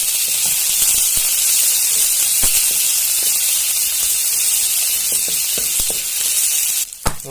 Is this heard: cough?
no